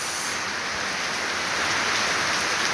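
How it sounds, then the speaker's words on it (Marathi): Heavy rain with big drops pours down steadily, a dense, loud, even wash of patter on surfaces close by that holds at the same strength throughout, with no voices. "पण पावसाचे थेंब पण खूप मोठे मोठे आहे."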